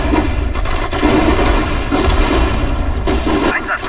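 Dense, continuous gunfire with rapid overlapping bursts and booms, a chaotic battle din that never lets up, from the video game Sudden Strike 4.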